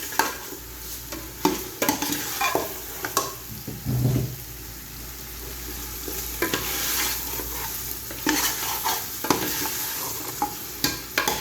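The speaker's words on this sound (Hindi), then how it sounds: "1 से 2 मिनट अच्छे तरीके से मैं इस पर भुनाई करूँगी।" Mutton trotters sizzle steadily in a pan while a spoon stirs and scrapes against the metal in repeated, uneven strokes.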